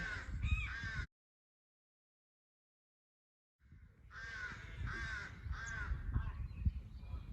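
A crow carrying a beak full of grubs caws in a churchyard among lichen and bluebells. A short burst of calls comes first, then a pause of silence, then a longer run of repeated harsh caws, fairly close.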